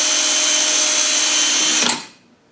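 A drill boring slowly through a panel to fit an hour meter on a Honda snowblower, a loud close whine held steady for about two seconds before it spins down and stops.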